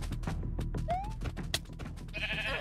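Cartoon sheep bleats in a Peppa Pig parody, a wavering mid-pitched bleat heard over a busy, continuous animated soundtrack with music, then a hissing burst toward the end.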